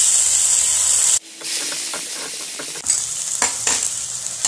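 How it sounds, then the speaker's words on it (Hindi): Onions sizzle steadily in a hot pan while browning, with a spatula scraping and stirring a few times. "प्याज को ब्राउन होने तक भूनेंगे"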